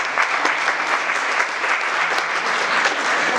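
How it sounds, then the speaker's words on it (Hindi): Audience applause at a Christmas interfaith harmony event in a press club, a dense, even round of clapping from a full crowd sustained throughout without talk. "उनके लिए तालियां होनी चाहिए"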